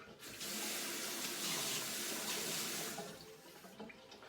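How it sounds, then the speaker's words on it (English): Plain tap water runs from a faucet in a steady, loud hissing stream that swells at the start and tapers off near the end. "So I've just got some plain tap water straight from the tap"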